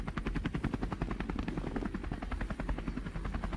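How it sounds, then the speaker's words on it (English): A helicopter in a heist video game thrums loudly and continuously with fast, even rotor chopping close by, and no talk is heard. "I need you to do is throw that ladder to the helicopter"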